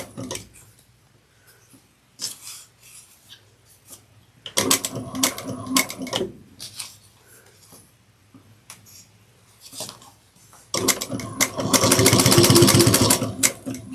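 A sewing machine top stitching a sling bag runs in short whirring bursts between pauses, its last burst longest and loudest, with small handling clicks in between.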